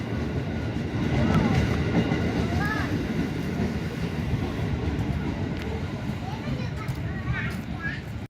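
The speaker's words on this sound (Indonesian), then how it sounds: "Kereta gede enggak keretanya?" A train rolls past with a steady rumbling clatter of rail cars that swells early and holds for several seconds, while children and an adult chatter nearby.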